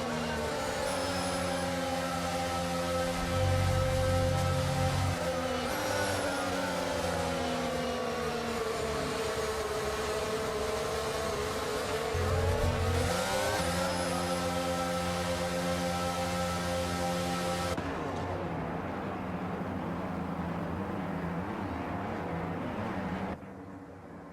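F1 race cars on the formation lap in the F1 22 racing video game, with engine tones rising and falling steadily and loudly for about twenty seconds before fading, with no talk.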